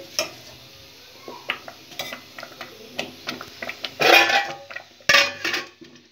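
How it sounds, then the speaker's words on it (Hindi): Quiet kitchen clatter and stirring taps, then two loud bursts of sizzling as spices hit hot oil for tempering chana saag, up close with no speech. "इसके बाद हम इसमें तड़का लगाएंगे"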